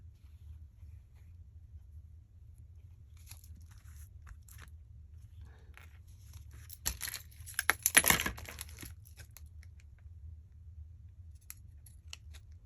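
Pinking shears snip through lace fabric in a short burst of crisp, close cutting sounds, with a few faint scattered snips before it, over a low steady background hum.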